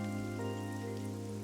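Steady rain falls in the video game AI: The Somnium Files, a soft even hiss beneath sustained tonal background music, quiet and unbroken.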